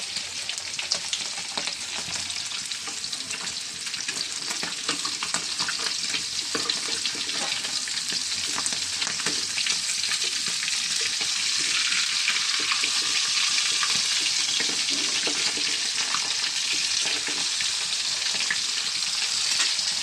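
Hilsa fish fries in oil with a loud, continuous sizzle and crackle that swells toward the end, steady and close, no voices.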